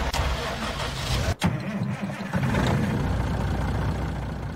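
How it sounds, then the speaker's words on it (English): A truck engine in Farming Simulator 19 rumbles loudly. A brief cut near the start is followed by a steady, close idle drone. "Oh, it's my new truck. I forgot to try it out."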